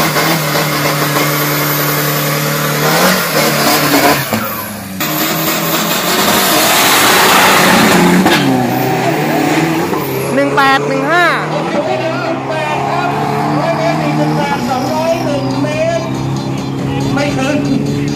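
A modified pickup truck with a 1.9 DDi diesel engine revs hard and drives past at a street car meet, the engine loud and continuous with rising and falling pitch, crowd chatter and voices audible underneath.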